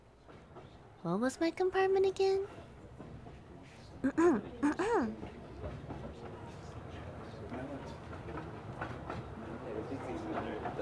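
Train ambience from the video game The Lion's Song, a steady low rumble with soft clatter that builds and continues under intermittent voices, with game music-like tones early on.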